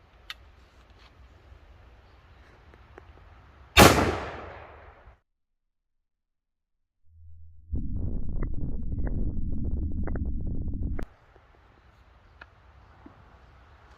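A 12 gauge shotgun fires an FTX flex tip slug loaded into a shell, making a single sharp, loud blast that decays over about a second. A sustained, dense rumble follows later.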